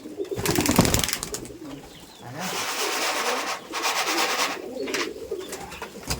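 Pigeons coo steadily at a pigeon farm, a close, continuous chorus of soft throaty calls with some rustling, and no talk.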